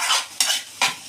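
A pan of pav bhaji is stirred, three quick evenly spaced scraping swishes over a soft sizzle, close and brief, with no voices.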